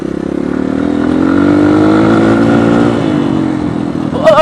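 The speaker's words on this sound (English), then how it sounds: "Bike almost went right there." A dirt bike engine revs loud and close on a sandy trail, a steady throaty drone that climbs in pitch, holds, then eases off near the end, with no voices over it.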